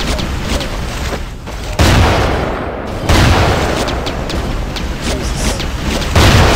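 Loud, booming blasts from a shotgun in Terminator Genisys: Guardian hit in a few heavy bursts amid a dense, noisy game soundscape.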